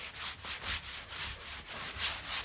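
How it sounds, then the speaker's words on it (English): Rhythmic rubbing strokes of a wet rag rinsing sugar soap off an interior wooden door, close up, repeating steadily back and forth with no talking. "Rinse any of the excess sugar soap off with the rag."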